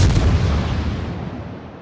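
Artillery fired blind over a hill in a video game, one loud booming blast that rolls off and fades away over about two seconds, with no voices.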